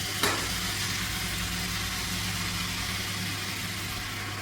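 Pea sprouts drop into a pan of softened onions, setting off a brief sharp burst followed by a steady, close sizzle of frying that continues evenly throughout.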